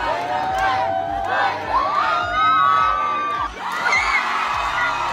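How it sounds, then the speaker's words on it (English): A crowd cheering wildly for a Spider-Man performer, with loud overlapping shouts and whoops in rising bursts, near and dense. "The crowd went wild for Spider-Man."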